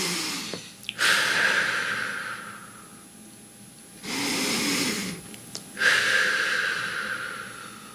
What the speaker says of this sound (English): let's take 2 breaths together